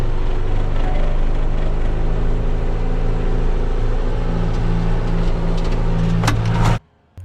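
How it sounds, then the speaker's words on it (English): A tractor's PTO drives a feed mixer on a Pennsylvania dairy farm at about 1700 RPM, a loud steady engine drone with a low humming rumble that holds constant, then cuts out abruptly near the end. "now I'm going to turn the PTO on so I can start mixing the feed"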